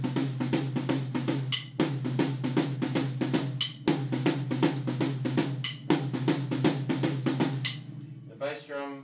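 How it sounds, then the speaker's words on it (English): A tom-tom drum plays a repeating shuffle pattern in groups of quick, close hits, each group followed by a short gap. The pattern runs for about eight seconds before a ringing tail. "The tom-tom sounds like this."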